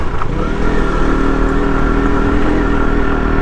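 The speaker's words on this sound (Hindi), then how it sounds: "केवल थोड़ी सी चढ़ाई है लेकिन फिर भी सेकंड गियर लग गया बाइक में" A KTM Duke 125 BS6 motorcycle climbs a short uphill stretch in second gear, its engine droning steadily and loudly from close by throughout, with no talk over it.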